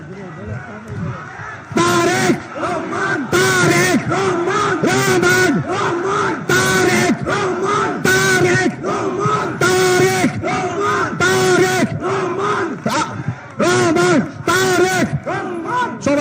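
A crowd at a Kishoregonj district BNP party conference chants slogans in loud, rhythmic call-and-response bursts, a leader's amplified voice alternating with the massed shouts of the gathering.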